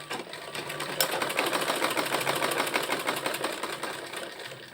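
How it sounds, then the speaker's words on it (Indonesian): Sewing machine stitching the collar of a shirt from the bottom up, a steady, close, rapid mechanical whirr with fine rhythmic needle pulses running unbroken throughout. "Kita jahit dari bawah ya"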